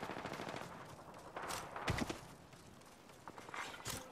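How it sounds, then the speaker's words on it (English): Video game gunfire in Apex Legends comes as quick bursts of sharp weapon shots mixed with mechanical clicks, moderately loud against a busy game soundscape. "Opening fire."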